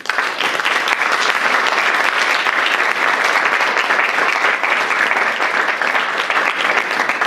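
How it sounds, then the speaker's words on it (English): Full audience applause welcoming the speakers at a lecture on music and end-of-life care, a continuous, close and loud wash of many hands clapping that holds steady throughout. "Let's welcome our speakers with a round of applause."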